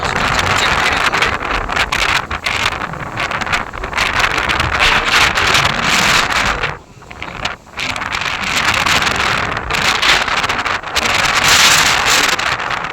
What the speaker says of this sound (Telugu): విపరీతంగా అయితే గాలి వేస్తుంది చూడండి